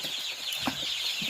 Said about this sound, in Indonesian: penjelasan ayam KUB atau ayam kampung unggul